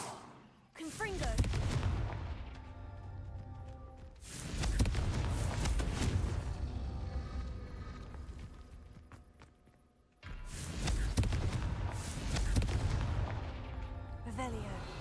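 Confringo blasting spell cast in the Hogwarts Legacy video game: three loud, booming explosive blasts, each trailing off into a rumbling decay, with tonal game sounds underneath.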